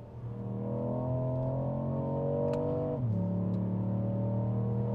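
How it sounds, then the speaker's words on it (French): Car engine in sport mode revving from inside the cabin, a steady tonal drone that climbs in pitch, then drops sharply and settles into a lower hum, with no talk. "je vais vous faire écouter le son du moteur"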